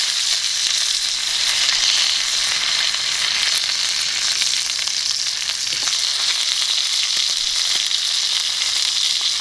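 Fat cap of a New York strip steak sizzles steadily in a hot pan, a loud, continuous broadband frying hiss with faint crackles and pops throughout, no voices.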